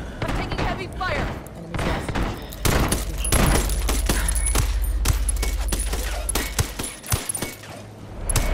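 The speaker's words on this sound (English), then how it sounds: "I'm taking heavy fire!" Heavy gunfire in the game Ghost Recon Wildlands, with dense bursts of automatic shots and sharp single cracks over rumbling background, loud and close, with brief voices mixed in.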